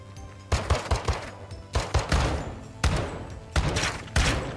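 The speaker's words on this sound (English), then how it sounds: "God damn, how many bullets I gonna shoot?" Automatic gunfire in the video game Warzone, several loud bursts of rapid shots separated by short gaps, each burst a quick stutter of sharp cracks with no talk.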